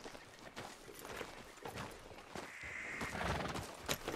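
In Red Dead Redemption 2, a horse neighs and whinnies close by while its hooves clip-clop in a steady walking rhythm, faint under the ambient game sound.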